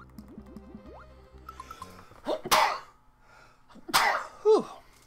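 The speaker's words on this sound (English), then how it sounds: "Gotta sneeze." Two loud sneezes burst out one after another, then a third smaller sneeze, following soft chiptune blips and jumps from Super Mario World playing quietly in the background.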